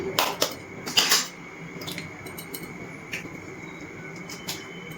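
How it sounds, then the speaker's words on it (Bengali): Two eggs being cracked into a bowl, with a few sharp taps and clinks near the start followed by lighter, scattered clicks against a quiet room background. "এর মধ্যে আমি 2টো ডিম ভেঙে নিচ্ছি"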